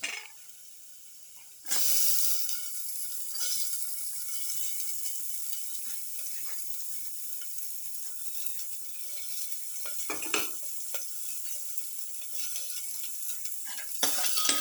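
Shallots sauté in a pan for a pepper garlic chicken liver stew, beginning with a sudden burst of sizzling that then holds as a steady hiss, broken by occasional scrapes and clicks of stirring.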